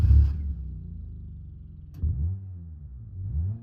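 A pickup truck engine in the BeamNG Drive video game starts with a short burst, then idles in a low rumble before revving up and settling again, close and fairly loud with no talk.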